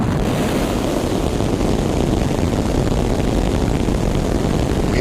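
Rocket engine roar from a Starship flight test launch recreation, a loud continuous broadband rumble with no breaks, heard alone without voices.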